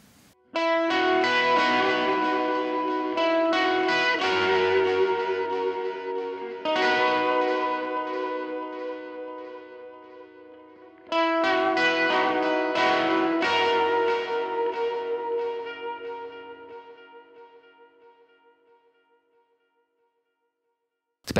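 Electric guitar chords run through a Lexicon PCM 70 effects unit with a stereo flanger, two long strummed passages that shimmer and ring out into a slow fading tail, loud and alone.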